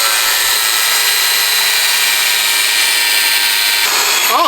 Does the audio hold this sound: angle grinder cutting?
yes